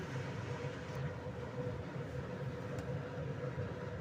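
Semiya payasam, vermicelli pudding, boiling in a pot on the stove gives off a steady, close rumbling bubble that runs unbroken for the whole stretch, with no voices.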